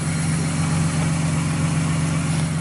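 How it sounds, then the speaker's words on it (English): A loud, steady mechanical whir with a low hum runs continuously and unchanging, a drift car's fuel pump droning close by with no voices. "Pretty loud fuel pump."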